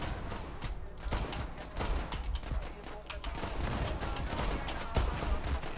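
Desert Eagle pistol gunfire in the online shooter Zula, dense, loud shots and crashes overlapping through a busy battle mix, with scattered other weapons and mechanical clatter.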